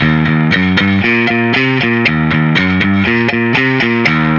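An electric guitar with a gritty, driven tone plays a steady, evenly timed, unswung repeating blues pattern, loud and up close.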